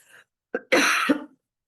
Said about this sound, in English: Pardon my cough here.